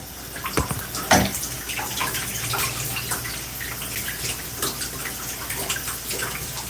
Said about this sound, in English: So here, we're going to add some water.